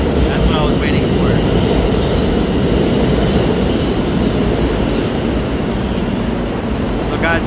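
A New York City subway train on the IND 8th Avenue Line pulls out of a Manhattan station with a steady loud rumble and a rising whine of motors, faint metallic squeals near the start and end.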